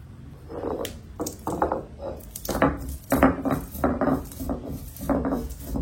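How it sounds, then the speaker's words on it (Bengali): Whole garam masala spices are ground to powder on a stone shil-nora with a large pestle, giving repeated close gritty rubbing and knocking strokes in an uneven rhythm, moderately loud with no voices. "আর এই যে গরম মশলাগুলো এখন আমি একটু পাউডার করে নেব"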